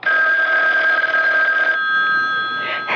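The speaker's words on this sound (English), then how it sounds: "Oh, that's the phone" A telephone rings in an old-time radio mystery drama, a loud, sustained electronic bell tone that holds steady, then shifts into a second ring, close and alone with no speech over it.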